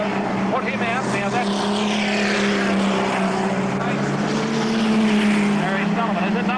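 Speedway race cars roar around the dirt oval at Mildura Speedway in 1990 as one car spins out, a continuous loud engine drone with shifting pitch under a commentator's voice.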